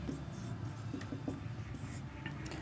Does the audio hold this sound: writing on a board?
yes